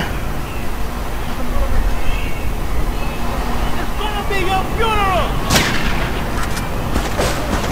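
Gunfire in the video game GTA 3, a dense rumbling barrage with a sharp loud crack near the middle, mixed with game ambience and someone talking throughout.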